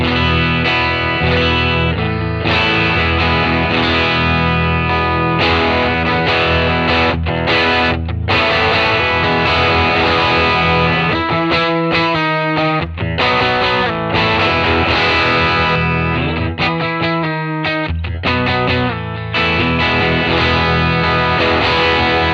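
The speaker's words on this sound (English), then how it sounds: "So this is about as clean as this pedal gets. You're gonna hear it's kind of like just a boost." Electric guitar played through a Marshall Guv'nor drive pedal capture set nearly clean, acting as a mild boost: bright, sustained chords and single-note lines ringing steadily and loud with only light grit, no voices.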